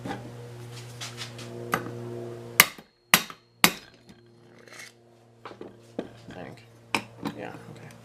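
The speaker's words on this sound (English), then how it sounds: "What about a ball peen hammer?" A ball peen hammer strikes metal in several sharp, ringing taps spread irregularly through a workshop session on a new piston for a Husqvarna 125B, over a steady motor hum with people talking quietly.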